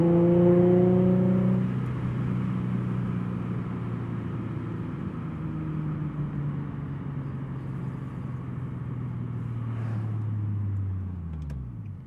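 Infiniti G37 with a 6-speed manual and Motordyne exhaust revs hard on a country drive, then settles into a steady droning cruise whose engine note slowly falls before fading at the end.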